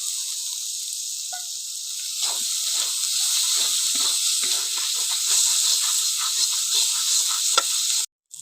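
Spice paste with green chillies and chopped tomato fries in a pan, giving a loud, steady hiss and sizzle with scattered spatula scrapes and stirring clicks, cutting off abruptly near the end.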